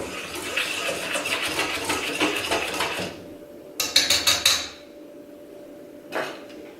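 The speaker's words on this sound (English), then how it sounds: "give those a whisk to evenly mix them" Whisk clinking against a bowl while sugar and salt are mixed, a quick run of bright metallic taps after a stretch of scraping, then one last tap, close and fairly quiet.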